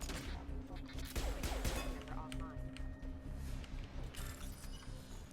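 Distant gunfire in the Mass Effect 2 video game, scattered bursts and shots crackling faintly in the background under game music and sound effects.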